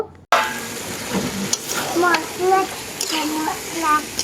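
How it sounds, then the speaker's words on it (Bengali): Beef pieces fry in a spice masala, giving a close, steady sizzle with occasional stirring knocks. Voices, including a child's, talk over the frying throughout. "কিছুক্ষণ মশলাটাকে ভালো করে কষিয়ে এখন মাংসগুলোকে দিয়ে দিচ্ছি, আর এই মাংসটাকে অনেকটা সময় ধরে কষিয়ে নেব"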